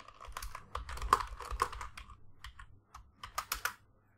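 Computer keyboard typing while writing Python code: a close, steady run of crisp clicking keystrokes in irregular bursts, with short pauses and no talk.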